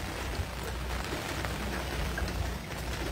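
Heavy rain pours steadily during a flood in Karangalan Village Phase 2A, Pasig City, a dense, continuous wash of noise with no voices.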